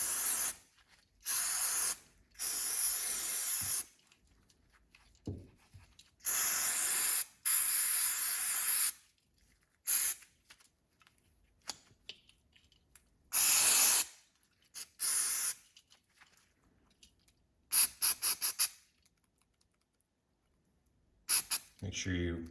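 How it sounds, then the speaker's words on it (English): Repeated short bursts of carb cleaner sprayed into a small engine carburetor, each a sharp close hiss separated by quiet gaps, roughly eight or nine blasts in all. "Let's get some carb cleaner in here"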